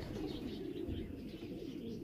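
A flying pigeon gives soft low cooing and murmuring calls close by, continuous over a couple of seconds.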